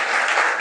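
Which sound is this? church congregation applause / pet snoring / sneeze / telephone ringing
church congregation applause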